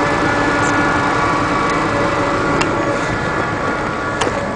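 An Onan Quiet Diesel 7500 generator runs on a 2005 Fleetwood Bounder diesel pusher motorhome, a loud, steady mechanical drone with a constant hum and no voices.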